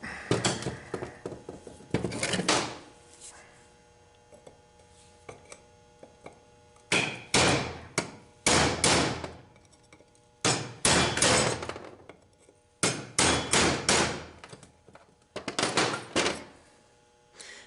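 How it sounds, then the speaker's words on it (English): A hammer drives a chisel against a transmission tailhousing seal on a 4R70W-family gearbox, sounding as sharp metallic clanks in rapid clusters of several blows, separated by brief pauses, close and loud. "We're going to take a chisel or a modified screwdriver, and you're going to go right in between here and knock that out."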